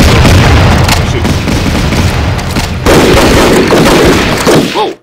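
Tank cannon and infantry gunfire in the wartime strategy game Battle Academy, set in France 1940, with dense overlapping loud booms and crackling shots that roll on continuously and cut off abruptly at the end.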